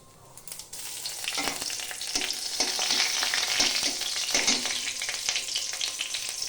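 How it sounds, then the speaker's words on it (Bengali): Dried red chilli, panch phoron and bay leaf sizzling in hot oil for a niramish begun and raw banana dalna, a sharp close crackle that swells after a quiet start and keeps spitting steadily. "আর একটু শুকনো লঙ্কা ফোড়ন দিয়ে দিলাম, তারপরে 5 ফোড়ন দিলাম আর তেজপাতা দেব আর দেব একটু চেরা কাঁচা লঙ্কা"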